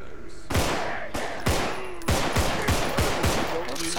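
Gunfire in the zombie co-op shooter Contagion: a string of sharp, loud single shots at uneven intervals, roughly eight cracks over four seconds, close and punchy.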